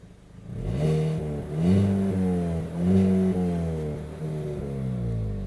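A 2023 Hyundai i20 N is revved while standing still, its engine climbing and falling through several rising, throaty sweeps in a steady run, loud and close with no talking.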